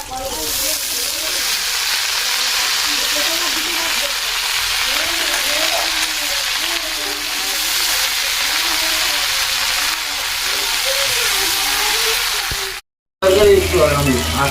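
Washed leafy greens go into a wok already frying onion, garlic, ginger, fried egg and crab, giving a steady loud sizzle and hiss with someone talking over it throughout, then a brief cut near the end.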